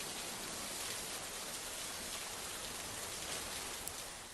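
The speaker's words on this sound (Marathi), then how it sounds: "कोल्हापूरमध्ये देखील जोरदार पाऊस सुरू आहे" Heavy rain pours down steadily in Kolhapur, Maharashtra, a dense, even hiss of falling water that holds at constant strength throughout with no voices.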